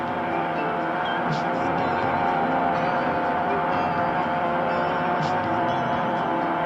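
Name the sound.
small aircraft engine in flight over the Garonne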